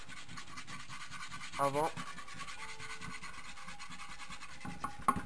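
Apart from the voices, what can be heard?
sanding Lifan 125 motorcycle part before painting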